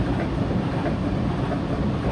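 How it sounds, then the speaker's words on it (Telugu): A Thomas and Friends toy train rolls along its track at a toy train exhibition in Pleasanton, California, a steady close rumbling clatter that runs unbroken with no voices. "ఒక రైలు బ్రిడ్జిని దాటుతూ రాజసంగా ముందుకు వెళ్తోంది"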